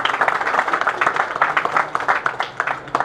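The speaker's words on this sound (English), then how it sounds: "give yourselves a round of applause for that" Applause from a crowd at a motovlogger meetup in Lonavala, a dense, steady run of many hands clapping close by that carries on for the whole stretch without fading.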